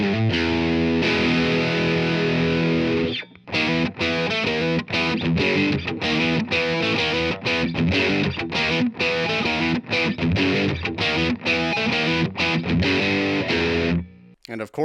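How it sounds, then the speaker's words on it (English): Overdriven electric guitar through a 1972 Fender Super Reverb amp, playing gritty, sustained chords and chugging riffs at steady loudness, with short stops between phrases. "How about some overdrive?"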